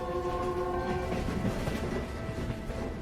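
A train runs through rugged mountain country on its way to Tiekou Station in the Dalian Mountains, giving a steady rumbling roll with sustained horn-like tones over the first second.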